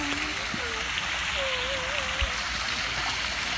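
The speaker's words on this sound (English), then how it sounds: "We're going underneath the waterfall." Water from a waterfall pours steadily onto riders in a lazy river at a Riviera Maya resort, a constant close rushing splash, with voices talking and calling out over it.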